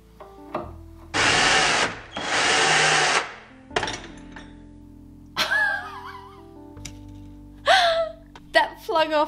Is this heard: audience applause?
no